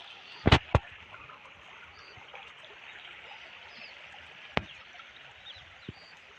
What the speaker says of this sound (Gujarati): પાણી કેવું જાય છે સરસ મજાનું ઝરણું જુઓ